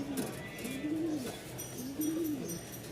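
An Andalusian pigeon gives several soft, rolling coos in a slow repeating rhythm, close by and fairly quiet against faint background noise.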